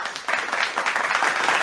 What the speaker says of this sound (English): we better clap for him too, right?